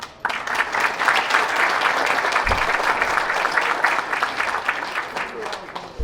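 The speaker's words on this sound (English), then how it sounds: "a round of applause for those people who prepared and served our meal tonight" Banquet audience at a baseball scouts' awards dinner applauding the kitchen and serving staff, a full, steady round of clapping lasting several seconds with crowd murmur underneath.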